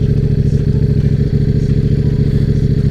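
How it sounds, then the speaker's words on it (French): A KTM RC8 R motorcycle engine running on its own because of an air leak, a loud, close, steady throbbing idle with a fast rhythmic pulse and a slight clatter. "Du coup la moto accélère toute seule."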